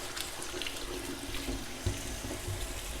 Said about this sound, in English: I'm just gonna wash them off now.